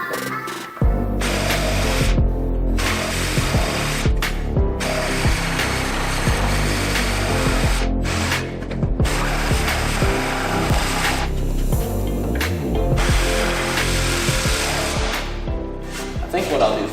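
Power saw cutting a 2x4 wooden board in a garage, a loud continuous whine running almost the whole time with brief dips between passes, with speech at moments.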